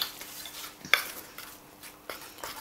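A utensil stirs gold lustre powder into royal icing gel in a small dish, giving soft scraping and a few light clinks. The sound is close and fairly quiet, with no talking.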